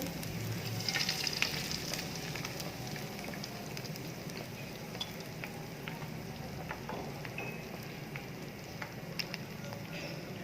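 Eggs frying in a pan for restaurant-style vegetable fried rice, a steady dense sizzle with light crackles and stirring scrapes throughout, fairly close and even, with no talking.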